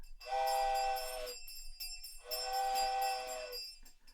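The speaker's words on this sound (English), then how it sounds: "while the train disappeared into the night" A train whistle sounds at night, two long harmonic blasts separated by a short gap, with steady background rumble from the railway.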